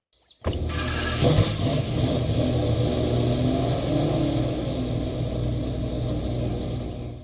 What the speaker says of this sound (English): let's check this out, the beautiful roar of this beautiful engine